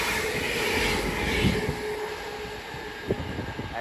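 A London Overground class 710 electric train departs Watford Junction on the West Coast Main Line, with a close, steady rumble and rising whine of traction motors and a few sharp clunks of wheels over rail joints near the end.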